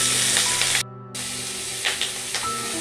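Green chillies frying in a pan, a loud close continuous sizzle with hissing spatter that cuts out briefly, then resumes with bursts of spluttering.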